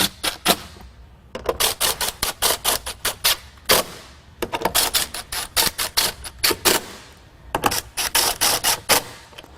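Impact gun on reduced power tightening bolts while installing a Ford Escape or Mercury Mariner hybrid battery, loud close bursts of rapid hammering in repeated short runs separated by brief pauses.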